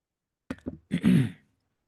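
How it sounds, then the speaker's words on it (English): A couple of short throaty allergy coughs are followed by a longer rasping clearing of the throat, close and fairly loud, then silence. "I got a cough. Hold on a sec."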